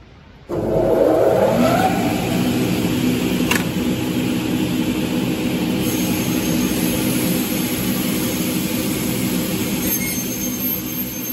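A CNC double head cutting saw for aluminum and uPVC windows starts up and runs with a loud, sustained high-pitched whine and a rushing roar, close and continuous throughout.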